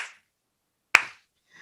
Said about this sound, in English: clapping our hands